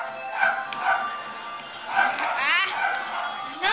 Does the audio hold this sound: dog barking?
yes